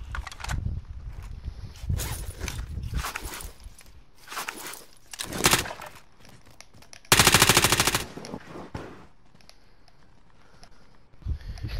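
Bursts of automatic gunfire in Warzone, a video game firefight: several rapid volleys, the loudest sustained burst about a second long near the middle, with scattered single shots and clatter between them.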